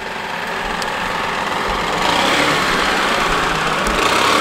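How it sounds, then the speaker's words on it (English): Stihl BR800 backpack blower clearing snow, a steady loud engine roar with broadband rushing air that holds constant throughout, close to the listener. "we did manage to blow it all off with the backpack blower."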